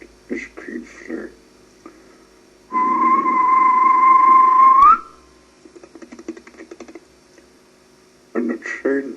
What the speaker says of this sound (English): So the guard blew his whistle